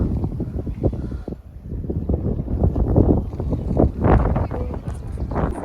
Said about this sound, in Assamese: পুৰা ঠাণ্ডা বতাহ